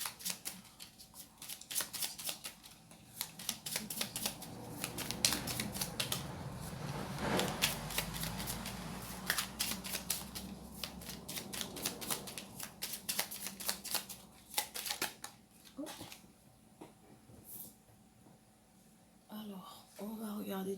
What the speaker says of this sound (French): Je vais vous tirer une carte conseil du petit oracle des anges.